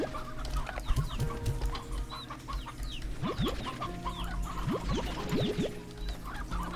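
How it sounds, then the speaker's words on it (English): Chickens cluck and squawk in short bursts in Slime Rancher 2, with a rooster-like call among them, over a steady low background hum and scattered clicks. "Now I have more chickens."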